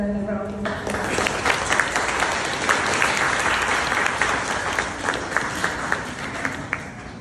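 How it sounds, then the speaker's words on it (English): Audience applause for the Fine Arts Division staff at an art exhibit, a crowd's dense clapping that starts abruptly after a spoken line and continues steadily and loudly. "Let us give them another round of applause."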